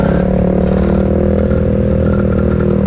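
A motorcycle engine revs hard in congested street traffic, loud and close, with a continuous rough mid-range drone and some clatter that holds steady throughout.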